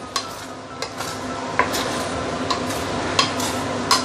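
Hokkien Mee with prawns cooks over high heat, a steady sizzling bed broken by regular sharp clinks of a utensil stirring against the pan, close and fairly loud, with no talking.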